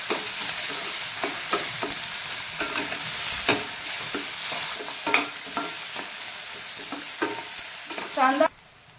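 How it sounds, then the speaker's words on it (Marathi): Chopped onion and tomato sizzle and fry in hot oil in a pan, with a spoon repeatedly scraping and stirring through them in close, uneven strokes, ending with a brief louder clatter. "टोमॅटो सुद्धा तेलामध्ये थोडा शिजवून घेणार"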